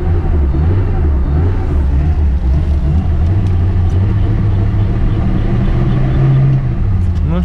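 A classic car stuck in winter snow revs its engine close by. A loud, continuous low drone swells and dips as the revs rise and fall.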